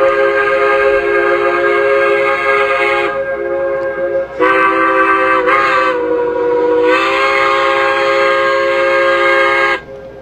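A steam locomotive whistle in a Trainz 2004 train simulator game, loud, steady and close, with two long blasts split by a brief break and a short dip in the middle.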